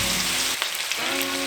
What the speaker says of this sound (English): these bad boys have been sizzling away for about 4 or 5 minutes